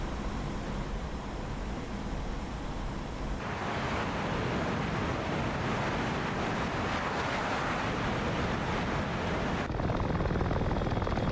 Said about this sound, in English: What's up with this helicopter though?